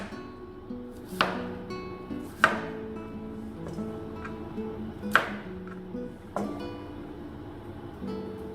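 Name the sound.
chopping cauliflower into bite-sized pieces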